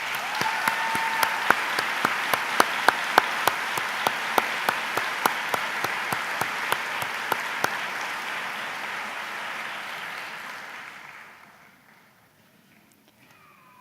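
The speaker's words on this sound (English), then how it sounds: "would you please join me in a round of applause for all the Swinburne staff?" Graduation ceremony audience at Swinburne applauding university staff, a steady, moderately distant wash of clapping with a few sharper individual claps, fading away to near silence at the close.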